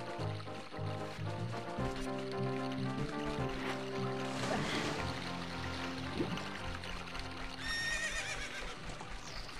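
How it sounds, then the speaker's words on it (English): A horse is ridden in Zelda: Ocarina of Time, its clip-clopping hooves and a whinny heard over game music, fairly quiet. "I like riding my horse, gosh darn it."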